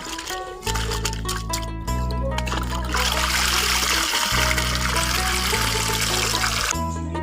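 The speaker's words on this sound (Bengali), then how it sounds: "পাতাটা ধুয়ে নিলাম" Leafy greens being washed in water, a continuous trickle and splash of running water close by, over a steady low hum, with a brief pause in the flow midway.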